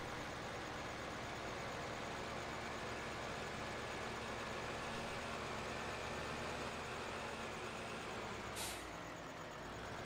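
A tractor engine in Farming Simulator 15 pulling an oversized cultivator drones steadily and fairly quietly, with a brief hiss of air near the end.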